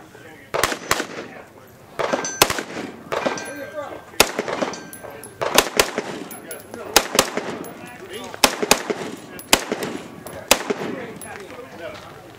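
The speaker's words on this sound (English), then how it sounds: "Go ahead and give it two quick shots." An AR rifle fitted with a TAC-CON trigger fires at an outdoor range, a string of loud, sharp shots in irregular groups of singles and quick pairs, with voices talking between and under the reports.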